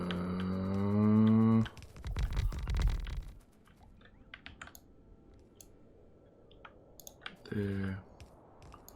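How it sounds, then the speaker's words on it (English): A computer mouse clicks repeatedly in short, dry ticks, heard close and fairly faint in a quiet room after a brief spoken word. "I'm going to keep clicking, keep holding click whilst it makes 3 gig."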